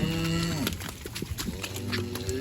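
Hungry cows and calves mooing at feeding time on a soggy, wet February farm, several overlapping low bellows and calls close by over a constant rainy background.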